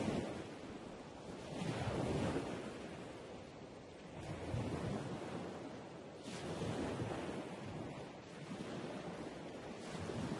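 Sea waves surge and break against the stone walls of Qaitbay Citadel, a steady rushing roar that swells and ebbs in slow cycles, with wind buffeting the microphone throughout and no voices.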